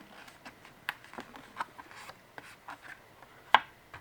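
Paper flaps of a die-cut heart pocket folded over by hand, giving soft close crinkles and light taps, with one sharper crease snap near the end and no voices.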